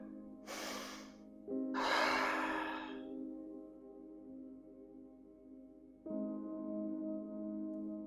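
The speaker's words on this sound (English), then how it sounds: "Nice deep breath." Deep breaths taken during a calf stretch: two soft airy breath sounds near the start, over a steady low hum, with no talk.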